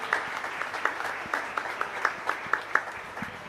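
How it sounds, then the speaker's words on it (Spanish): A church congregation at Mass applauds a couple celebrating their 42nd wedding anniversary, a sparse, fairly quiet patter of individual claps in an uneven rhythm with some room echo. "Un fuerte aplauso para ellos."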